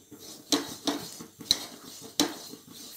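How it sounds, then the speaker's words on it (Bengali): Cashew barfi mixture stirred in a pan over a medium flame: a spoon scrapes and knocks against the metal in four distinct strokes at a steady, unhurried pace, close by and with no talk. "ততক্ষণে আমি এটা নাড়তে থাকি।"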